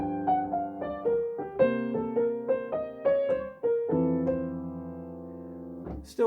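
A bebop-style jazz piano lick, played as a plain run of notes without ornamental turns, with clear successive attacks and sustained chords ringing alone near the close.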